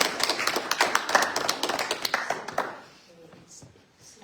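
Congregation at a church service applauding to welcome a speaker, a dense burst of claps that holds for a couple of seconds and then fades into quiet room tone, with talk mixed in.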